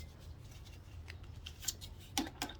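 Kitchen shears snip grass tangled in a garden tiller, producing a few faint, quick metallic cuts that grow sharper toward the end, close by and with no talking.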